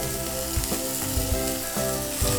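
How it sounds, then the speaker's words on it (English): Rice stir-fried in a hot pan with ginger and garlic powder gives a loud, steady sizzle with soft scraping stir strokes every half second or so over background music, no talking. "Stir fry your rice with the ginger powder and also the garlic powder."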